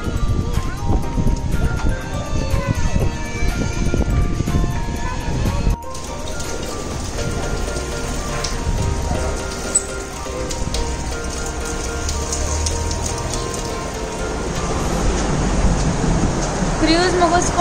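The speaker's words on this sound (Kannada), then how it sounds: "ಕ್ರೂಸ್ ಮುಗಿಸ್ಕೊಂಡು ಹೊರಗಡೆ ಬಂದಮೇಲೆ ತುಂಬಾನೇ ಮಳೆ ಬಂತು" Heavy rain pours steadily in Melaka, a dense, continuous wash of drops drumming on nearby surfaces throughout, loud and close, with faint background voices now and then under the downpour.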